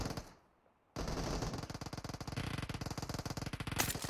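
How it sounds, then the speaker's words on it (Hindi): Automatic gunfire in the PUBG Mobile video game, a dense, loud, rapid burst that starts abruptly after a brief quiet gap and continues steadily to the end, with no talking. "गन का साउंड थोड़ा ज्यादा आता है ना"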